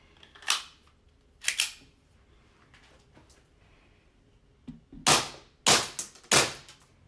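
A G&G Piranha SL gas blowback airsoft pistol gives sharp, close snapping shots, with two quieter pops early and then three loud cracks in quick succession, set against a quiet room.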